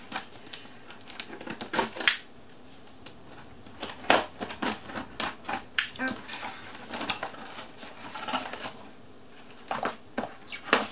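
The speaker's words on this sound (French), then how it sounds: "donc je vais ouvrir ça tout de suite" Package being opened during an unboxing, close irregular crinkling, tearing and tapping of cardboard and plastic wrap in quick bursts with short pauses.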